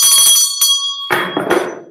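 A hand bell rings loudly and close, one sustained clang with a short ringing decay followed by two brisk shaken bursts of ringing.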